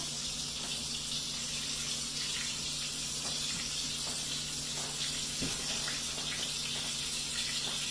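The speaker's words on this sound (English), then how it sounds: "so while that is going, I just wash my hands a little bit." Running tap water pours steadily while someone washes their hands in a kitchen sink during cooking, a constant gushing hiss with faint clinks underneath.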